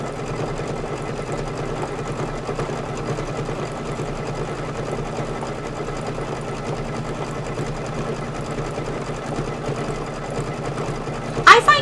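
An embroidery machine stitches a Kimberbell table topper, its steady rapid needle chatter running continuously under a voice, with a brief louder clatter at the very end.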